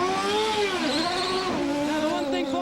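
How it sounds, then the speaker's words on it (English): A 1994 CART Indy car engine at the Indy 500, revving high and steady as it leaves a pit stop, its pitch sweeping down then back up, loud and close with no voices over it. "he kept the revs up. You could hear the engine was much higher"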